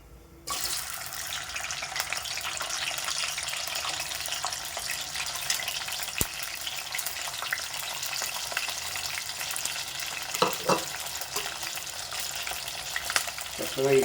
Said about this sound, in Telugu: ఆయిల్ మరిగిందండి. ఇప్పుడు ఎండు చేపలు వేస్తున్నాను.